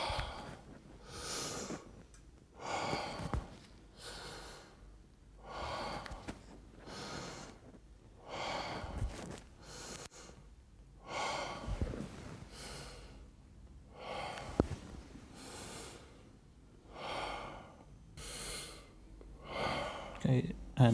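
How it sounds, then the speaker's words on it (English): During a chest examination, a patient with systemic sclerosis and pulmonary hypertension takes slow, deep breaths in and out, in steady airy pulses about every second and a half, close and soft. "Again, some deep breaths in and out."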